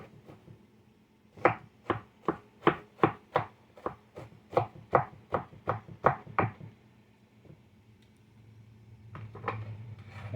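Onions being chopped with a knife on a cutting board for croquettes: a quick run of about fifteen crisp, evenly spaced chops, close and clear, then quiet and a couple of final cuts.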